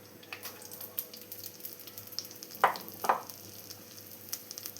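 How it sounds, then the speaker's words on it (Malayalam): Chopped shallots frying in coconut oil in a pan for a prawn curry give a soft, steady sizzle with two brief louder bursts of stirring midway, close and without talk. "ഇതിലേക്ക് നമുക്ക് ആദ്യം ചെറിയ ഉള്ളി ഇട്ട് കൊടുക്കണം"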